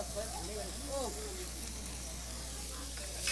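Chopped onion stir frying in a pot gives a faint, continuous sizzle and hiss, with a voice talking over it at the start.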